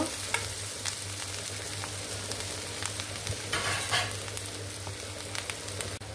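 Onions stir-frying in a pan, a steady low sizzle of oil with occasional scraping and stirring clicks, close and moderately quiet, continuing without pause.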